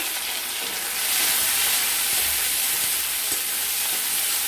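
Chopped tomatoes going into a pan of frying onions, turmeric and spices, giving a loud, dense, steady hiss of sizzling that rises slightly after the first second and carries on unbroken with no talking.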